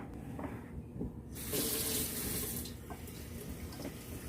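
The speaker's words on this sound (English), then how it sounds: "I'm just going to wash them really well, and then I'm going to boil them just like this." Sweet potatoes being washed under a running kitchen tap, a steady close splash of water into the sink that swells louder in the middle and continues throughout, with no talking.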